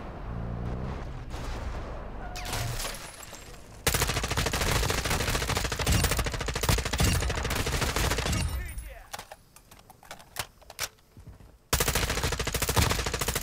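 Sustained bursts of automatic gunfire and explosions in the video game DMZ, loud and dense, breaking into a quieter stretch of scattered shots before resuming at full intensity.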